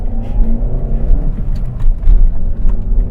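A Mercedes-Benz A-Class W168 with a 1.6 engine pulls away from standstill, its engine droning steadily and loud with rising revs, close by, with no talk over it.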